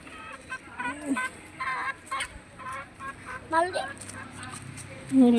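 Free-range desi chickens roam a home yard, giving a string of short clucks and calls near and far, with people talking over them.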